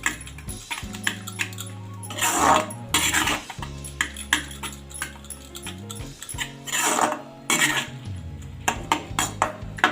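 A spoon stirs lauki kofta curry with yogurt in a metal pan, giving repeated scraping clinks and knocks in irregular bursts, close and fairly loud, with no talk.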